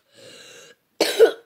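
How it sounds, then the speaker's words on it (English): Two short bursts of coughing, a softer throat-clearing rasp followed after a pause by a sharper, louder cough, heard close with nothing else around. "that's why I've been coughing a lot, because I've been sick"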